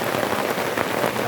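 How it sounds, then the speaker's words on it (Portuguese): Heavy rain pours steadily onto surfaces at a camp base, a dense, loud, even hiss of drops close by with no voices. "Estamos aqui na chuva, ó. Chuva grossa,"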